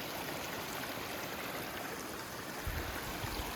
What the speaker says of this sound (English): It's water from mountain and it's going down, down, down.